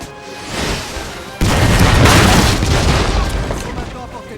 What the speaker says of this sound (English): Whilst you are shelling the enemy